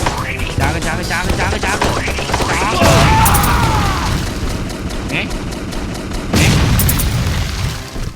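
Video game combat: dense gunfire crackles throughout, with two heavy booming explosions and a steady rumble underneath.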